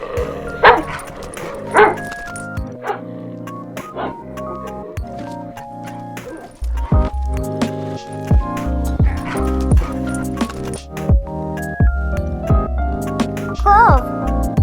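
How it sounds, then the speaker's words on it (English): A dog barks and yips several times over continuous background music, the barks short and sharp, some fairly close and loud. "Dog."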